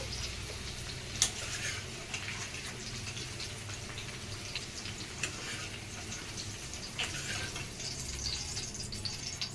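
Ivy gourd pieces frying in oil in a pan for masala curry, a steady soft sizzle with occasional stirring clicks and scrapes, close and alone without talk.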